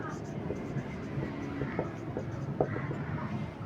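Chalk taps and scrapes on a classroom board as a solution is written out during a geometry lesson, soft and intermittent under low room noise.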